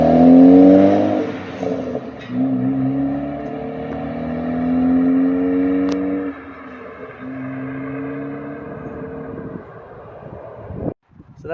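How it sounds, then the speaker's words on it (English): A turbocharged Ford Focus ST with a 200-cell catted downpipe, making 340 wheel horsepower, revs up with a throaty exhaust roar, holds, and surges again in several long pulls before cutting off abruptly. "So mated to that 200 cell catted downpipe, it purrs nicely."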